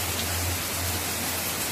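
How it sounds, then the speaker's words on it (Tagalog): Heavy rain pours down in a steady, dense hiss with a low hum underneath, continuous and fairly loud throughout, with no voices. "Umulit na naman ang ulan guys. Lumakas na naman siya ulit."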